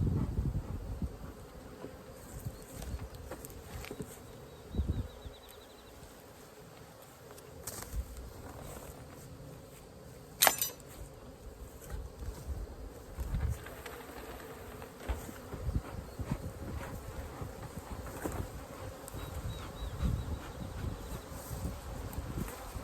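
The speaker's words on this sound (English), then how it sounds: "A lot of bees left in this box." Low, continuous droning of a mass of honeybees buzzing close up in a hive box, with occasional bumps and scrapes and one sharp knock partway through; no talking.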